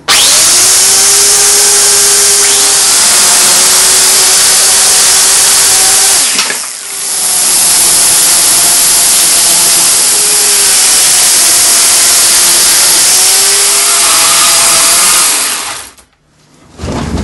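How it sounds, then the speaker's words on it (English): A chainsaw roars loud and close while thinning the tail of a plum wood salmon carving, its engine note rising and falling as it bites, dipping briefly mid-cut and cutting out near the end before restarting. "see if I can get the chainsaw just to thin down the tail area"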